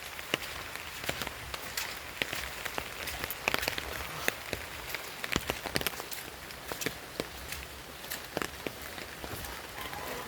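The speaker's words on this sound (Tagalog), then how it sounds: "Malakas ang ulan guys." Heavy rain pours steadily, with sharp drops and patters tapping on a nearby surface throughout, and no voices.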